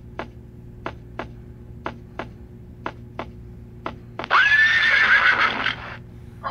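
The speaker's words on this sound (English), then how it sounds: "Horse." A toy horse plays a series of sharp clip-clop taps in a steady rhythm, then gives a loud, whinnying neigh lasting over a second, close and clear with no talking.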